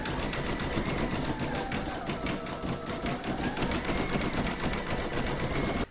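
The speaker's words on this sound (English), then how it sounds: "I'm now going to pop my hoop back into my machine and stitch round number three, and that's going to do all the satin stitch detail." An embroidery sewing machine stitches satin stitch detail on an in-the-hoop hedgehog applique, a steady, loud, rapid mechanical chatter that runs unbroken for several seconds.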